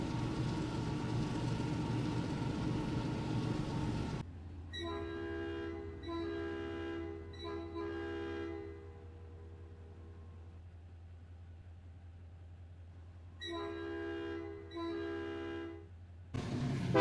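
A passing commuter train sounds its horn in several loud, blaring blasts over a steady low rumble, with a heavy roar at the start and again as the clip ends.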